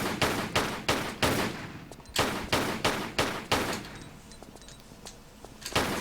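An enemy guard fires a gun in a Tomb Raider level: sharp, loud gunshots in irregular bursts, a rapid string of cracks followed by a pause and a final shot, close and clear with no talk.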